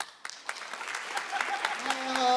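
Applause from a crowd builds steadily, dense clapping swelling louder over a couple of seconds.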